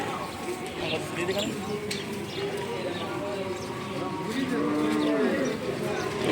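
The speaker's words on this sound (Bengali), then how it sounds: "কলারোয়ার হাটে প্রচুর পরিমাণ ফ্রিজিয়ান ষাড় গরু" Friesian bulls low among the murmur of a busy crowd at the Kalaroa cattle market, with a longer moo rising near the end over background chatter.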